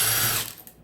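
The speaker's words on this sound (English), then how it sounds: "I'm going to disconnect this 10 millimeter bolt here" A ratchet wrench clicks rapidly while undoing a 10 mm bolt on a Toyota bipolar hybrid battery. The buzzing ratchet is heard close up, then stops abruptly and leaves a few faint handling taps.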